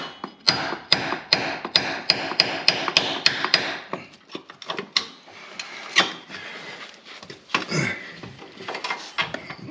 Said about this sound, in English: Let's see if I can hit it with the hammer.